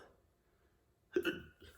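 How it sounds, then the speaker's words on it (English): One short burp catches on a hiccup partway through, a sudden throaty gulp with a sharp catch, heard close and alone after a moment of quiet. "You ever had one of them burps that like it's a burp, but it's a burp and a hiccup at the same time?"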